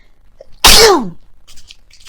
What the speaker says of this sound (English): I just felt that sneeze come along